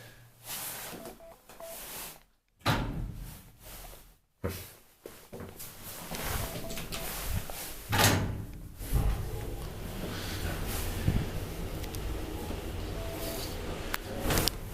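Doors of an old Otis traction elevator with door problems sliding and clunking in an apartment building, with several bumps and thuds, brief near-silent gaps, then a rumbling hum of the car under way, fairly close.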